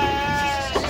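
Male goats bleat at the Pebbair goat market, a drawn-out, close, tonal cry over a busy background murmur of the crowded livestock sale.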